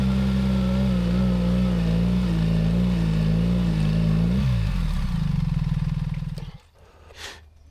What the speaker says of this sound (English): It's the traction control cutting in. That's how BMW pulses.